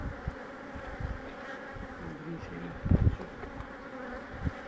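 Honeybees hum and buzz steadily at close range around a hive being split, with a few louder swells; faint voices are present.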